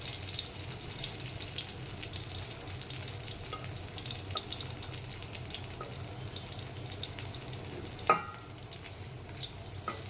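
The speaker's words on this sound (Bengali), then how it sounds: "একটু কড়া করে ভাজতে হবে, নাহলে স্বাদ লাগে না।" Pumpkin flower and water lily flower fritters fry in a pan, a steady soft sizzle running throughout with a single brief sharp clink near the end, no voices.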